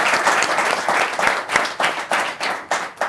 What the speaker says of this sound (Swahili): Jipigeni makofi